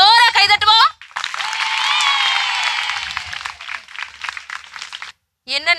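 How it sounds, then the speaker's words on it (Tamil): An audience applauds at a family Pongal festival program in Madurai, a few seconds of dense clapping between bursts of a speaking voice at the start and end. "எல்லாரும் ஜோரா கைதட்டுவோம்."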